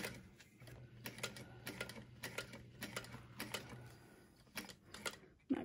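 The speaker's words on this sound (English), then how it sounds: "I like to add a back stitch for reinforcement" A sewing machine runs in short bursts of rapid mechanical stitching while back stitching to reinforce a handbag seam, quiet and close, with brief pauses between runs and a sharp click at the end.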